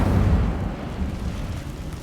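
Incendio fire spell cast in the Hogwarts Legacy video game, a loud, dense whooshing roar that surges at the start and then holds as a steady rumbling burn for about two seconds, with no voices.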